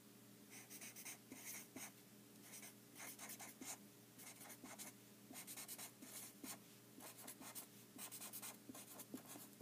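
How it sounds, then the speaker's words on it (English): A pen writes out a chemistry note during a lesson on molecular formulas, giving a steady run of close, scratchy strokes with short pauses between words, heard alone. "I'm actually going to write this down"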